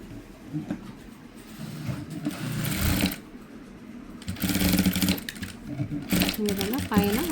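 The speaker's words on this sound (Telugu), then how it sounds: "అడ్జస్ట్ చేసుకొని పైన ఒక స్టిచ్ వేసుకోవాలండి." A sewing machine stitches a cutwork blouse in loud, rapid mechanical runs that start and stop, with someone speaking between and over the bursts.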